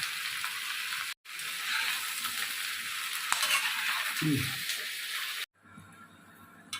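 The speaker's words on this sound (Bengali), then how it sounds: "আলু বেগুন পেঁয়াজ দিয়েছি পাঁচফোড়ন দিয়ে করছি" Potatoes, eggplant and onion frying with panch phoron in a pan, giving a steady close sizzle with stirring scrapes, a brief gap, then a quieter end section.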